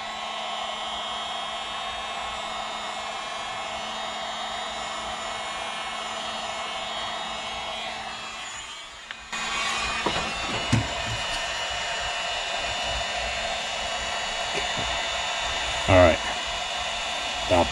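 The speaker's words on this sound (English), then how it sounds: "I may have to heat it up some more because I'm just using the heat gun on this one." A heat gun blowing hot air onto a patent leather heel wrap for a Christian Louboutin shoe, a steady whooshing hiss that cuts out briefly and then restarts louder, with small handling clicks over it.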